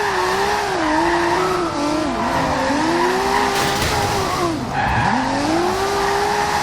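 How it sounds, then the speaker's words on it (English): An RB26-swapped Nissan S15 Silvia drifting in Forza Horizon 2, engine droning steadily while the tires squeal in long, wavering screeches that rise and dip through the slides. "This car drifts actually very nice"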